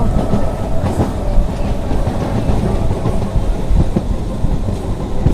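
On board a MEMU passenger train between Chittoor and Tirupati, a loud, steady rumble of wheels and carriage carries on throughout with faint clickety-clack, close and unbroken, with no voices.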